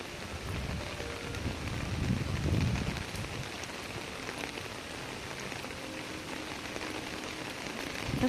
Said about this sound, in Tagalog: Ulan gid siya oy. Ulan gid siya ba?